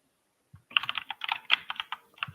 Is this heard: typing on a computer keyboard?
yes